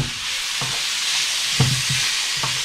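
Chopped leek fries in a pan with a steady bright sizzle, broken by a few soft knocks from stirring, close up and with no talking.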